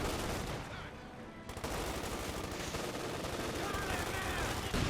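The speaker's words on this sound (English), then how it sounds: "Rangers sweeping forwards, taking hits there from Gentlefox's mortars." Mortar blasts and gunfire in a Company of Heroes 2 match, with Rangers under fire from mortars; continuous crackling battle noise with sharp bursts, under a commentator talking.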